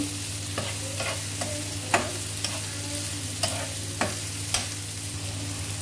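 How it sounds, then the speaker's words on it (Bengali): Small shrimp and onion fry in a pan with a constant sizzle over a low steady hum, while a spatula scrapes the pan in distinct strokes about once a second. "চিংড়ি পেঁয়াজটা একটু ভেজে নেব"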